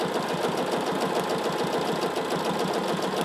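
A sewing machine stitches free-motion quilted feathers with a fast, steady mechanical whir and rapid needle chatter, heard up close and continuous without any talk.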